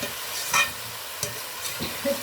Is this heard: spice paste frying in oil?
yes